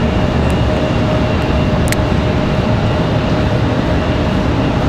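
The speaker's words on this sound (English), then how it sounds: "I don't know if you guys can hear the tri-jet down there." Tri-jet airliner engines rumble and whine steadily on the taxiway at Raleigh-Durham International Airport, a loud, continuous roar with a faint high tone running through it.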